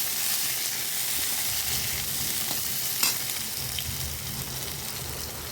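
Sliced eggplant fries in hot oil in a pan, giving a continuous loud sizzle with a few brief stirring scrapes and clicks, no voices.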